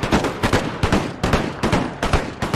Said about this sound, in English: I also want to see how these puckle gun works, so... Do they just constantly fire?